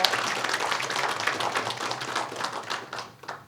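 Audience applause welcoming a university professor introduced at a public-sector ESG forum, a steady patter of many hands clapping throughout, fairly loud and close, tapering slightly at the end.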